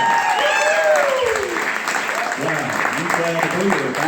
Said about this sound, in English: If you don't mind, please give a big round of applause.